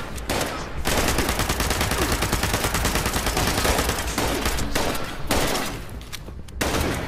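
Rapid sustained automatic gunfire from a shooter video game, Fallout 76, loud and continuous for most of the stretch with a few brief gaps between bursts.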